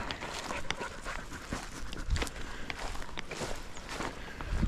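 A hunting dog on a pheasant hunt runs through brush close by, its steady panting and quick footfalls scattered among rustling and crackling through the whole stretch.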